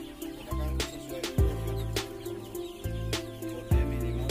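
Two-month-old Arab laying hens and roosters in a flock of 960 birds cluck and call near the listener, with repeated short bursts over a busy, crowded backdrop.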